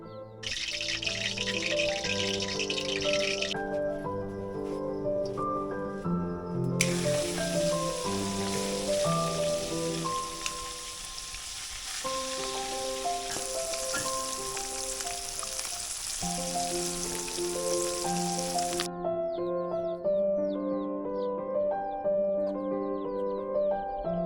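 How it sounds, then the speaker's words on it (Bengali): Fish frying in hot oil inside a village house kitchen, a steady close sizzle running throughout beneath loud music. "ঢুকে এখন মাছ ভাজা হচ্ছে"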